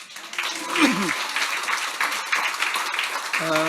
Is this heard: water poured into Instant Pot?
no